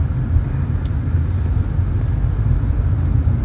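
A Toyota FJ Cruiser cruising on the freeway, heard from inside as a steady low engine and road rumble with constant tire and wind noise, no talk.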